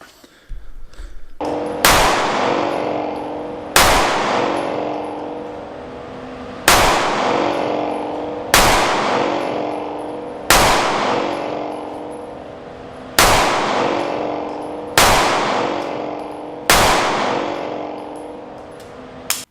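Loud, sharp single handgun shots from a Taurus G3c and a Ruger Security 9 compact 9mm pistol fire at a steady pace about every two seconds, each one ringing out with a long decaying echo and no talk.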